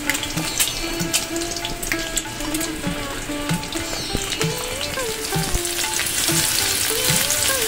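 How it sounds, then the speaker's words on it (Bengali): Shelled duck eggs fry in hot oil in a pan, giving a loud, steady sizzle with scattered spatter pops and light stirring clatter throughout, with no voices. "হাঁসের ডিম ছাড়িয়ে দেখো ভাজা করতে দিয়ে দিয়েছি আমি। সুন্দর করে একটু লাল লাল করে ভাজা করে নিচ্ছি।"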